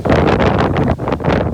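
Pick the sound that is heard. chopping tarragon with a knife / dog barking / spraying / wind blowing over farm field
wind blowing over farm field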